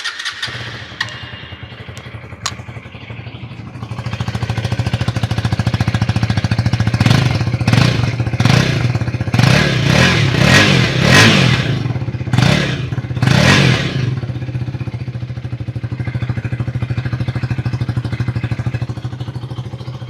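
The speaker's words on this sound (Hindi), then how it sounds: "अब सुनते हैं ड्यूक 250 का एग्जॉस्ट।" A KTM Duke 250 Gen3 motorcycle's exhaust starts after a few clicks, settles into a steady idle, then gives a run of sharp throttle blips close by, each rising and dropping back, before easing back to a loud, steady idle. No one speaks.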